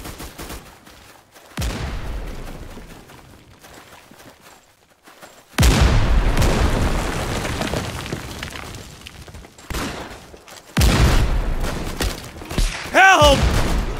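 Grenade blasts during a failed amphibious landing, several heavy booming explosions with broad roaring bursts, mixed with gunfire and shouting voices, close and loud.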